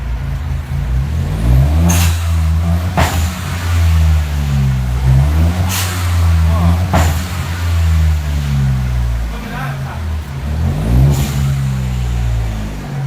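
A Ford Fiesta 1.0 turbo engine revs hard in repeated bursts, loud and close, with sharp hissing blow-off valve releases between pulls of the throttle.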